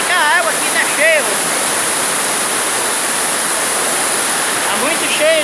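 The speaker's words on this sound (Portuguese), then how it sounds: "Esse é ronco, é da água." Water roars steadily through a cave as a loud, constant rushing wash that fills the space, with scattered bird-like chirps and distant voices faintly over it.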